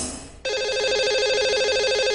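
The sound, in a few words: telephone ringing to call a radio show's lucky caller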